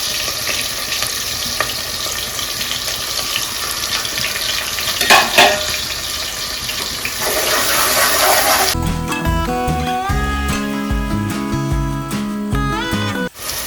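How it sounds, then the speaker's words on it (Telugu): Onions and green chillies fry in hot oil with a continuous close sizzle and some stirring, and a strong tonal background hum enters partway through. "ఆయిల్ అయితే కాగిందండి ఉల్లిపాయలు పచ్చిమిరపకాయలు వేస్తున్నాను"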